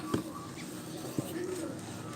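Soft pigeon cooing in a quiet outdoor space, with a couple of faint low coos and a short sustained call, no one speaking.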